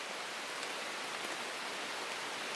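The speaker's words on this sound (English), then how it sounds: "Just worried about the rain at the minute, so I don't want to record for too long." Steady rain falls at a campsite, a dense even hiss of drops on surfaces with no break and no voices.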